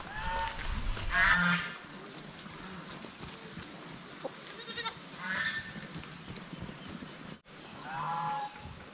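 Young goats bleat in short, bright calls while playing on a farm, with a few louder cries near the start and middle and another near the end.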